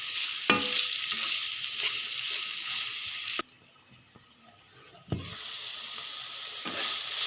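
Chicken pieces cook in a hot pan for a paratha roll, giving a steady close sizzle with stirring scrapes that cuts out to near silence partway through, then resumes with a sharp knock.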